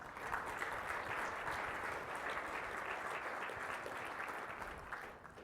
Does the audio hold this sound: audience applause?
yes